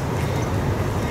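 A steady low rumble of an approaching Amtrak train rolling nearby in South Florida, continuous and fairly loud, with no voices.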